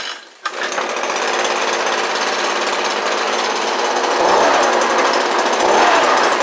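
A small ECHO ES-210 shredder's two-stroke engine catches after a brief silence and runs on loud and steady, with a raspy, buzzing drone that swells slightly toward the end.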